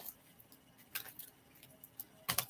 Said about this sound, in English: Let me shuffle this out.